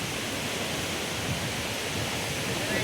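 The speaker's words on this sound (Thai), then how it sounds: "มองลุมก็เป็นน้ำตกตาด" A waterfall roars in a steady, even rush of falling water, loud and unbroken from start to finish, with no voices.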